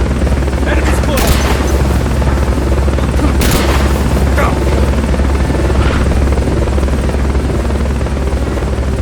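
In the game Metal Gear Solid Peace Walker, a helicopter's rotor thrums loudly and continuously, with a couple of sharp bursts and game voices over the steady drone.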